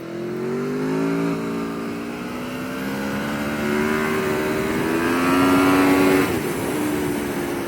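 An Aprilia Tuono 1100 Factory motorcycle accelerates hard, its engine note loud and close and climbing steadily for several seconds before dropping sharply at a gear change near the end, with no talking.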